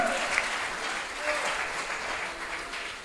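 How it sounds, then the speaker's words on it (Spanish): A church congregation claps loudly and steadily in a dense, continuous burst of applause filling the room. "Dele fuerte ese aplauso a Jesús"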